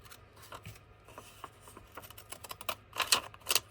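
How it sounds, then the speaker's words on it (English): Journal card paper being trimmed with scissors, a run of soft, crisp snips and rustles close by that grow denser and louder toward the end, with no talking. "all I'm going to do is cut this down a little bit."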